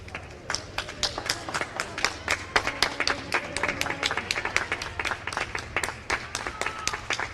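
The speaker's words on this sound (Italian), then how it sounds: "Avete sentito l'applauso del Presidente, l'applauso dei triestini al Presidente della Repubblica Sergio Mattarella" A crowd of Trieste residents applauding President Sergio Mattarella, dense sharp clapping that comes in loose rhythmic waves and carries on throughout.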